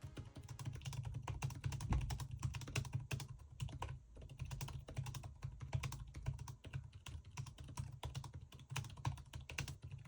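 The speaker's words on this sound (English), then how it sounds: "the keyboard actually took me by surprise and is a pleasure to use. Take a listen." Rapid, steady typing on an Asus TUF gaming laptop keyboard, a dense stream of soft clicky keystrokes heard up close with no talking.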